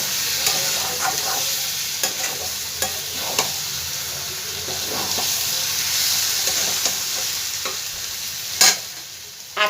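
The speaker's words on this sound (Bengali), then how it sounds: "ভালো করে একটু নাড়াচাড়া করে আমি নামিয়ে নেব।" Prawns with taro stolons stirred in a hot frying pan, a steady loud sizzle with repeated scraping strokes of a spatula and a sharp clank of the pan near the end.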